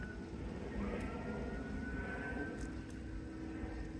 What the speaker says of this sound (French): Pardon, il y a un avion.